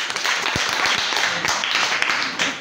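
Children in a CM2 classroom clap for a classmate during a quiz match, a brief dense burst of close, sharp hand claps with a few louder taps standing out.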